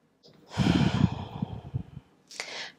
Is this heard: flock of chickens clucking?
no